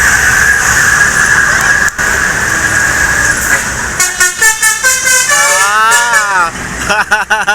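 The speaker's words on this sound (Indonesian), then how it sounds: "rombongan bus dari Sumbar akan masuk lagi ke kota Palembang ya" A convoy of two MPM buses rolls into Palembang, with loud, repeated multi-tone horn blasts and a melodic honking pattern rising near the end over engine noise.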